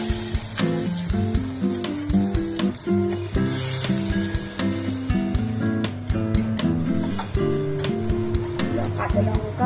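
Spices fried in hot oil with cinnamon and fennel already in, a steady close sizzle running throughout beneath loud background music.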